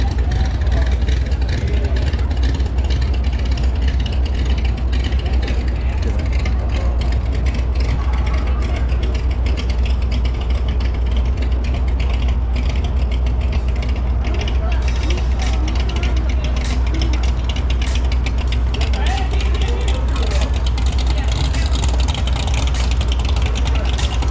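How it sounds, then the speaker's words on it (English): A tour boat engine on the Sacramento River runs loud and steady, a constant low mechanical roar with rattling texture throughout. "That boat sounds, the engine sounds great."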